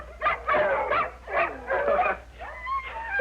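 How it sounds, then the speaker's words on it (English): Several watchdogs in a kennel bark, yip and whimper close by in quick, overlapping bursts, loud and excited with no talking. "Over here we have an excellent selection of watchdogs in kennel number 7."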